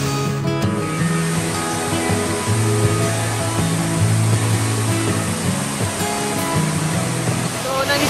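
Rushing water of Kaparkan Falls in Abra, a loud continuous roar of falling and churning water heard up close, steady and broadband throughout with no pauses.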